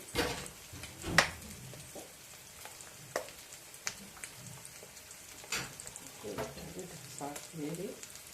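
Spices, including cumin powder, being stirred in a pan, with soft intermittent scraping and gentle sizzling close by and a voice talking over it.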